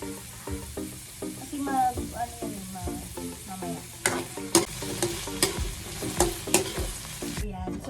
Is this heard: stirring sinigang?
yes